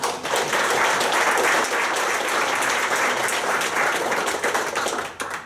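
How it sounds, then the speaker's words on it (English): An audience at a city council meeting gives a warm round of applause for award winners, many hands clapping continuously at an even, full level before it tapers off at the end. "So give them a round of applause."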